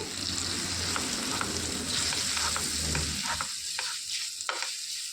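A spoon stirs drumstick leaf and flower chutney in a pan with the stove turned off, giving a soft sizzle and scraping. Light taps against the pan follow as the sizzle fades near the end.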